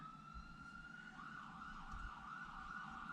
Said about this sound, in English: Sorry, I just hear those sirens.